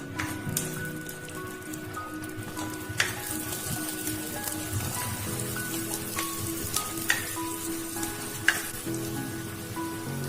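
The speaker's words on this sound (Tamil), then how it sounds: "எண்ணெய் நல்லா காஞ்சதும் மீதி இருந்த வெங்காயத்தை போட்டுருங்க." Onions frying in hot oil in a clay pot for mutton keema, a continuous soft crackling sizzle with scattered sharper pops, fairly quiet and steady throughout.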